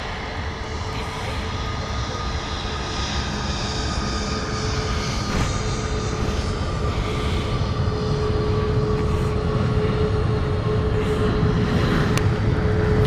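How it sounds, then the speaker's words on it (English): A Qatar Cargo Boeing 777F arrives at Stansted Airport with a broad, steady jet roar and a thin engine whine, building gradually and holding loud throughout without talk. "This is the Qatar Cargo aircraft,"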